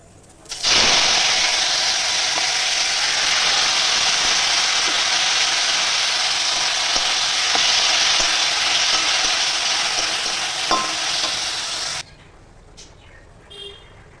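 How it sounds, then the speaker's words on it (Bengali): Tomato chutney fries in oil in a kadai with a loud, dense, continuous sizzle and hiss that lasts about eleven seconds and then cuts off abruptly into quiet, with no talking. "এবার আমি কড়াইয়ে তেল দিয়ে নিচ্ছি টমেটোর চাটনিটা করে নেবো"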